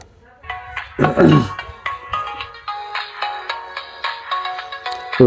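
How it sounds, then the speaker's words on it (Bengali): An Axion i500 button mobile phone rings during a call test, playing a bright, repeating melodic ringtone in steady pulses, loud and close, with a brief burst of handling noise near the start. "রিংটোনের যে সাউন্ডটা, এটা কিন্তু মোটামুটি বেশ ঠিক আছে, একেবারে যে কম সেটা কিন্তু নয় ফোনটির।"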